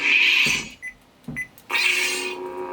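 A Return of the Jedi sound font on a custom Neopixel lightsaber with a cyan blade swells with a bright buzzing whoosh, drops away briefly with two short clashes, then surges back into a steady electric hum.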